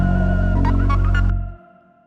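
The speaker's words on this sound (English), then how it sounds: "I have a super simple sub bass from Analog Lab," A simple sub bass from an Arturia Analog Lab synth with subtle distortion, playing in a beat: a deep, sustained low tone with faint gritty overtones and a few brief higher notes on top, then a quick fade to silence.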